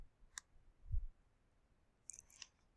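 Computer mouse clicks on a desktop, a sharp single click, then a soft low thump, followed by a quick pair of crisp clicks near the end, close and quiet in an otherwise silent room.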